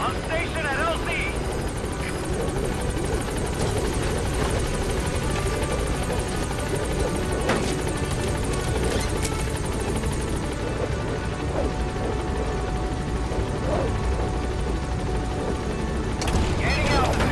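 Pequod, a helicopter in Metal Gear Solid V, arrives at the landing zone with a continuous loud rotor thrum and whine, overlaid with game sounds and a radio voice.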